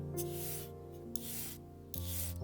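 A hand file rasps across a damaged sapphire ring during restoration, giving three close, rough strokes separated by short pauses, with a faint steady hum underneath.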